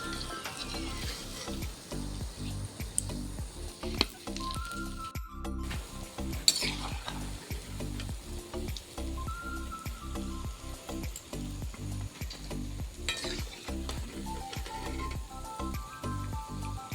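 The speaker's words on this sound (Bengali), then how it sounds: "এইভাবে আমি ধীরে ধীরে সবগুলোকে এরকমভাবে সেমভাবে ভেজে নেব।" Palm fruit fritters (taler bora) frying in hot oil, a steady close sizzle running throughout with frequent scraping and stirring clinks from a utensil in the pan.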